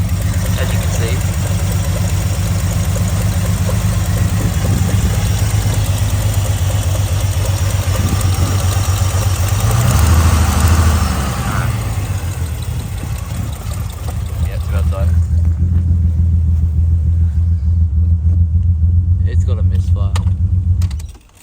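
A revived, formerly seized engine in a neglected skid car runs roughly with a heavy, uneven misfire, a loud continuous chugging idle that dips and surges midway before settling back, with background talk.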